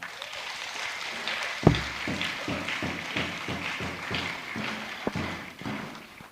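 Audience applause at a Ghanaian university's maiden graduation ceremony after a student speech, steady scattered clapping from a crowd with a few sharper nearby claps standing out.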